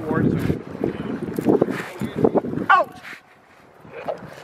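A dog barks several times close to the microphone in sharp, uneven bursts, with wind buffeting outdoors, then quiets toward the end.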